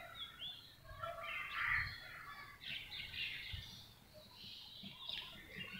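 Birds chirp outdoors on an overcast day with light drizzle, their scattered, faint calls sounding from a distance over a quiet background.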